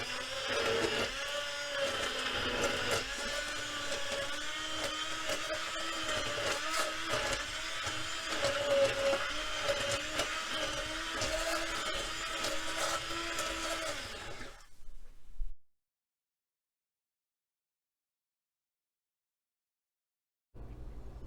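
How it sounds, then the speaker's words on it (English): A stick blender whirs loudly and continuously for about fifteen seconds emulsifying a pork hock sauce, then cuts off into silence before a faint hum returns. "take a stick blender and emulsify the sauce"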